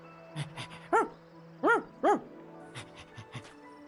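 A dog gives several sharp barks in quick bursts, close by, with soft whimpering noises between them.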